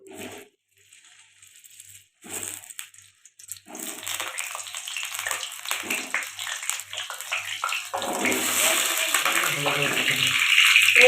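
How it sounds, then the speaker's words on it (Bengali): Potatoes hit hot mustard oil in a wok, starting with a few scattered crackles that build into a steadily louder, continuous sizzle. "তেলটা গরম হয়ে গেছে এবার এর মধ্যে দিয়ে দেবো আলুগুলো"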